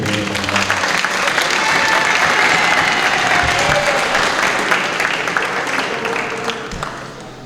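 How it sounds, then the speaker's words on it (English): Crowd applause at a student award ceremony, a sustained wash of clapping from many hands that stays loud and full for several seconds, with faint voices mixed in, before tapering off toward the end. "So one more round of applause for getting them."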